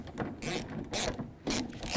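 Rapid ratcheting clicks from a 10mm socket ratchet tightening bolts on a 2005-10 Jeep Grand Cherokee front window regulator, in short repeated bursts, close and clear with no talking.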